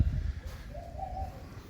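A dove coos softly outdoors after rain, a single low drawn-out call rising midway through, faint against steady background rumble with no talking.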